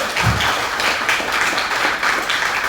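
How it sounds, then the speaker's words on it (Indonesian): Lively applause from the crowd at an association leader's inauguration ceremony, continuous dense clapping that holds a steady, fairly loud level throughout. "Sekali lagi tepuk tangannya yang meriah"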